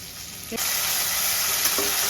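Cashew pieces sautéing with curry leaves in a pan for tondali masala rice: a soft hiss that jumps into a brighter, steady sizzle after a short clink, with faint stirring taps.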